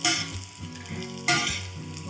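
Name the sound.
edible gum (dink) frying in hot ghee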